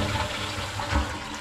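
A toilet flush drains into a basement sewage ejector pump basin, a steady rushing, gurgling water sound for its whole short length, with a brief louder surge near the end.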